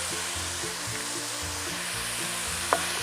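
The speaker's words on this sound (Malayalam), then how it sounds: "നമുക്കിത് വഴറ്റണം." Onions sautéing with a spoonful of salt in a pan for chicken curry, a steady close sizzle and frying hiss with a low hum beneath and one brief sharp clink near the end.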